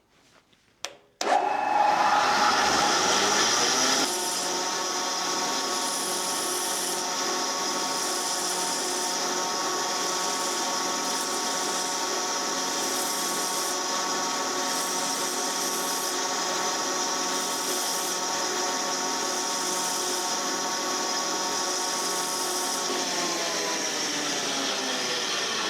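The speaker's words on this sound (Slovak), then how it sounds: "Teraz vysunieme brúsny pás, aby takto trošku vytrčal" A belt sander grinds a drill bit, its motor spinning up after a brief clatter and then holding a loud, steady whine with gritty rasping of metal against the abrasive belt for over twenty seconds before winding down.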